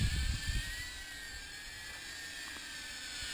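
Small 3D-printed 2S cinewhoop FPV drone in flight, its steady high-pitched whining propeller hum held at mid throttle, faint and continuous with a brief low rumble at the start.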